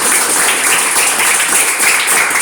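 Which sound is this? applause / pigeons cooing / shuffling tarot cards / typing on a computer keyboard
applause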